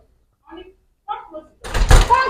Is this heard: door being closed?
yes